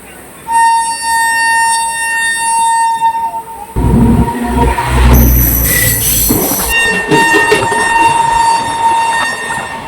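The Ganadevta Express runs on the rails in India, heard loud and close: a rumbling, clattering passage with squealing wheels and a sounding horn partway through.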